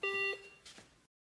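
A single short electronic beep from a Chinese copy of a Garrett ACE 250 metal detector, followed by a brief fainter rustle before the sound cuts to silence.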